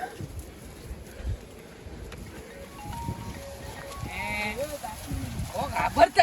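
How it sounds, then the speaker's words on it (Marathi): Goats bleat a few times amid steady outdoor background noise near a beach at Devghali, Ratnagiri, with people talking nearby. "ही शेळी शेळी शिंग घुसवू नका बकरी झालेल्या आहेत"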